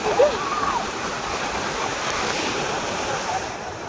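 A continuous rushing roar of rough surf at Digha beach fills the whole stretch, steady and loud, with wind buffeting the microphone.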